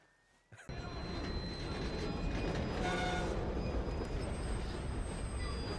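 A ScotRail train in a Rockstar video game rushes past close by, setting in with a sudden loud whoosh after a brief quiet start and holding as a steady, heavy rumble with faint wheel squeal.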